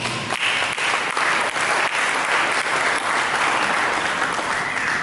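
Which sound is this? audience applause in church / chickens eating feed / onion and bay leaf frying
audience applause in church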